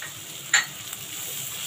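Kidneys with coriander and garlic frying in a pan, a steady soft sizzle with a brief sharper burst of crackle partway through, alone with no talk.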